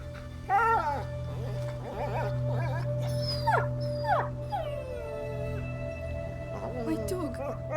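A dog whimpers and lets out rising, wavering howls and yips in the video game A Plague Tale: Innocence, several cries in succession over a low steady drone, with voices talking in between.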